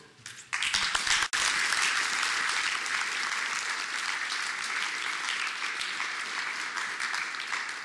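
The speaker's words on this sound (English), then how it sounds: "I would like to join you in applauding Oriani's work" Audience applauding at a scientific conference session: a few scattered claps quickly swell into steady, full applause that continues at an even level, with one sharp thump early on.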